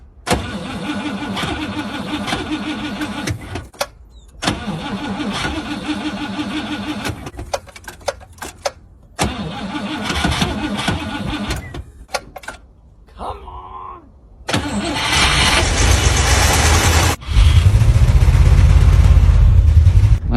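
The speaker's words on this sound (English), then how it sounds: "we're gonna try and cold start the Cadillac" A Cadillac engine cranking and trying to catch on a cold start in sub-zero weather at 7,200 feet altitude, loud and close, with repeated bursts of starter churning broken by short pauses before a rougher, heavier engine roar.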